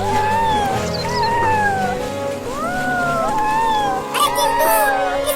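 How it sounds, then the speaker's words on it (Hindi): A kitten cries out repeatedly from inside a well, with loud, wavering meows and caterwauls in quick succession, set against a busy outdoor background. "इस बिल्ली के बच्चे की चिल्लाने की आवाज आ रही है कहीं से।"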